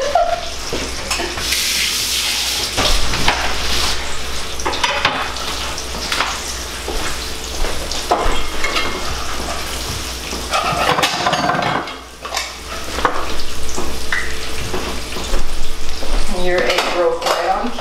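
An egg frying in a pan at breakfast amid busy kitchen clatter, with soft sizzling under repeated clinks and scrapes of utensils and pans, plus faint brief voices.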